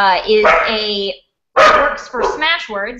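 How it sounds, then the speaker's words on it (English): A dog barks in the background of an online publishing panel, a few sharp barks mixed in with a voice as he keeps talking. "I really apologize about the dog"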